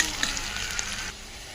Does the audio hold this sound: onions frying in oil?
yes